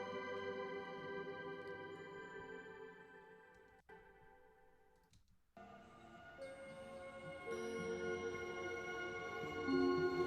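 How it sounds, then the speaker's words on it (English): Sustained synth-like tones in a song smeared by heavy delay and reverb, dissolving and washing into the mix. A brief dropout is followed by a fuller, denser swell, all without talk. "getting more of that delay until it just like disintegrates into the delay"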